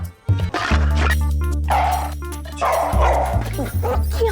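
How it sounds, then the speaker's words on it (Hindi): A dog barks repeatedly in quick, loud yips close by, with a steady low musical hum underneath and voices briefly audible. "ओंकार तुम्हें देखे और भौंक रहे, तुम जाओ भागो यहाँ से।"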